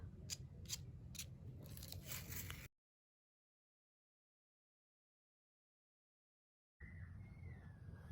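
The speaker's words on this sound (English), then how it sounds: "I'm just gonna take the tape off now just because I don't need it anymore for what I'm doing." Tape peeled off a painting in several short, crisp tearing strips close by, followed by a long stretch of silence and then faint room noise.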